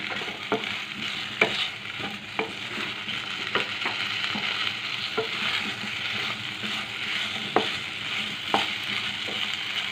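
Fish curry with taro root stirred as it fries in a little oil, a steady medium sizzle punctuated by sporadic sharp ladle clicks and scrapes against the pan, close and unvoiced.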